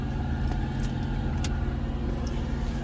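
A modified car engine runs steadily up close, a deep rumbling idle with a constant low throb and no voices over it.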